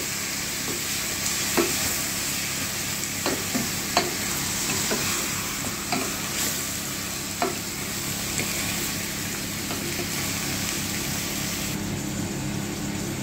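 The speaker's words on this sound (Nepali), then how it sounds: "थोरै बेसार लगाएर फेरि चलाउने र यसमा हामीले हड्डीवाला मासु लगाइदिने" Bone-in mutton and turmeric stirred in a hot pan, a steady oily sizzle running throughout with occasional sharp scrapes and knocks of the spoon against the pan.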